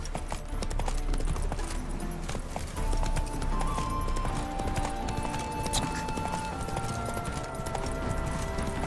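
Roach the horse galloping in The Witcher video game, steady hoofbeats clip-clopping at a run under a continuous bed of game music and ambience, fairly loud and close throughout.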